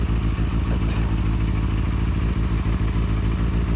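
A used Benelli 600i motorcycle engine idles steadily up close, its low pulsing exhaust throb joined by a light mechanical clatter throughout, with small fluctuations in the beat.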